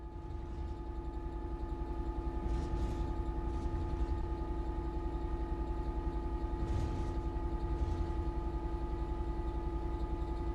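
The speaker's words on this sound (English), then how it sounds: "The train will then coast on level ground and the train will only slow down very gradually." A train in Train Sim World 5 coasting on level ground with the throttle at zero, a steady low engine drone and faint rolling hum holding constant, with a few soft clunks along the way.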